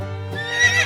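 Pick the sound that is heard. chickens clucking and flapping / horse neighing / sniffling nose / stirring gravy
horse neighing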